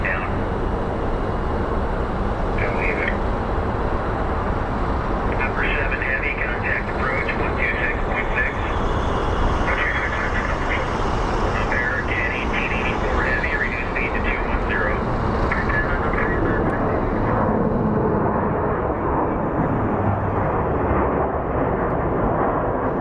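A jet airliner takes off at Phoenix Sky Harbor International Airport, a loud continuous engine roar filling the whole stretch as it powers down the runway, with people talking over it.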